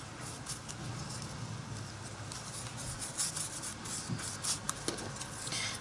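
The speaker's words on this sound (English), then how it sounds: "I'm going to write the words on these little measurement pieces here" Pen scratching out words on small paper measurement pieces, a steady close rustle of writing with a few light taps, heard alone without talking.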